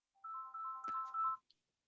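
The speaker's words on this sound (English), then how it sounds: "Sorry, my phone." A mobile phone ringtone plays a short, clean melodic phrase of a few notes in a quiet room during an online class, then falls silent.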